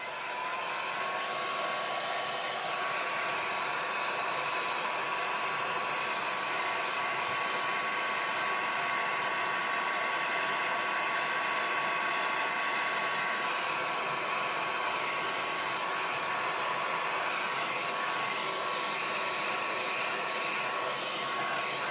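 A heat dryer blowing steadily to dry ink on a handmade card, a loud continuous whooshing hum with a faint whine, running alone without speech for over twenty seconds.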